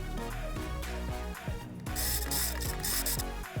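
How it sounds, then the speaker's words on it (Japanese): Sewing machine stitching a folded, two-layer fabric collar piece for a reversible baby bib, a steady mechanical rattle of rapid needle strokes that runs continuously and fairly loud at close range. "こんな感じでもう長くミシンをかけました。"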